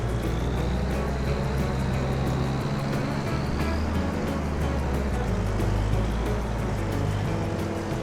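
A combine harvester drives along in Farming Simulator 25, giving a steady, loud low engine drone with a faint whining tone running through it, continuous and unbroken for the whole stretch.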